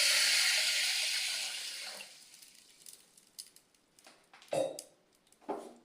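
Water is poured into a pressure cooker holding roasted horse gram, a loud close gush that tapers off after two seconds, followed by a few faint knocks and splashes.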